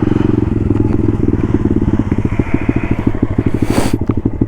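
A Honda Grom motorcycle with a worn clutch revs out of gear in snow, its small single-cylinder engine giving a loud, close, rapid pulsing putter that rises and falls in quick throttle blips.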